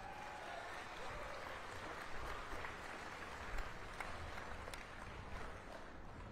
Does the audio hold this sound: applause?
yes